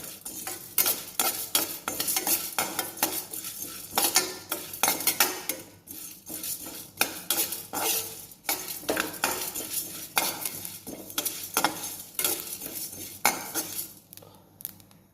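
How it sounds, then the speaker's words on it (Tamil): Black pepper, cumin, toor dal and coriander are dry-roasted in a metal pan, with a near, continuous run of spoon scrapes and clinks stirring the dry spices, only a faint sizzle beneath; no speech. "இப்போ இந்த மிளகு, சீரகம், துவரம்பருப்பு, கொத்தமல்லியை வானலில் போட்டு வறுத்து எடுத்துக்கணும்."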